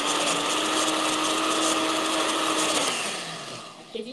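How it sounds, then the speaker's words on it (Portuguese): Kitchen blender running on peanut cake batter, a loud steady motor whir with a constant hum that slows and winds down near the end, leaving a brief clatter. "Por causa do liquidificador."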